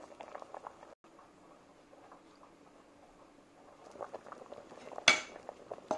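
Potatoes tumbling into a pot of simmering pot-au-feu stew, with soft clatter and liquid patter at low level and a sharper splash-like burst near the end.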